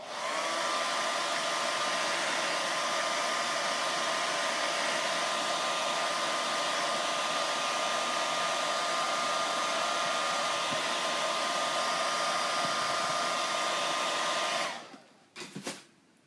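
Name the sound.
dryer drying a shadow box craft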